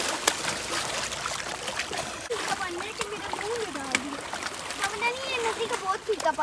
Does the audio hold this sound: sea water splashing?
yes